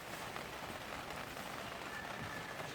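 Steady rain drums on a garden polytunnel, a dense, even hiss of drops on plastic sheeting with no pauses, heard alone at low volume.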